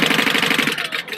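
A sewing machine runs a basting stitch at a 4 stitch length along the edge of fabric for a G-tube book bag, with a fast, steady mechanical chatter and even rhythmic pulses, close and alone, slowing near the end.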